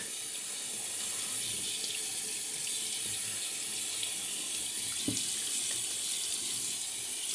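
A bathroom tap runs steadily as water splashes into the sink while a face is wetted before a shave, a continuous close hissing stream with a brief splash partway through.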